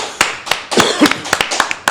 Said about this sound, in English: Clap it up for the road trip.